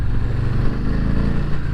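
A 2019 Harley-Davidson Low Rider with a 107 cubic inch V-twin runs close by, its deep, loping engine note rumbling steadily with a slight rise and fall.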